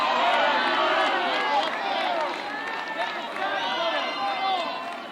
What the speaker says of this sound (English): I think the Alabama crowd wanted that one.